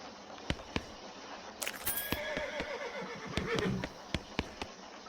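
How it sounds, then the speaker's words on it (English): Horse whinny in the video game West of Loathing, a short cartoonish neigh in the middle of sparse clicking game sounds, fairly quiet overall. "The horse shies away from you."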